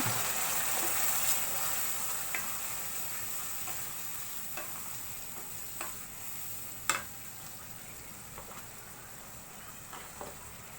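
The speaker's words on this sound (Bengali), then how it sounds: "একটু পানি দিয়ে দিচ্ছি যেন মশলাগুলো না পুড়ে যায়" Garam masala, salt and cumin powder fry in a pan after a splash of water, giving a soft, steady sizzle with occasional faint ticks and clicks of stirring.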